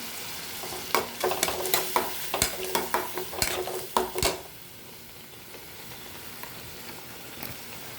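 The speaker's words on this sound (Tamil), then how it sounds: "போட்டு நல்லா வதக்கணும்" Onions and tomatoes for chana masala are sautéed in a pan. A quick run of rhythmic spatula scrapes and knocks over a sizzle stops after about four seconds, leaving a quieter simmering hiss and one later tap, with no voices.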